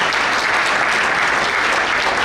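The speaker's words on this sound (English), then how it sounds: "Please stand and give these lifers a standing ovation." Audience applause at a cricket conference awards banquet: a loud, sustained burst of many hands clapping close by, with no break across the moment.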